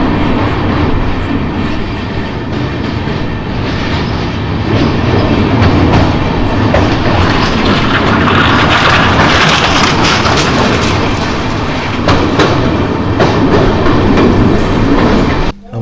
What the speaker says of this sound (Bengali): আমাদের এই ট্রেনটাকে দেখুন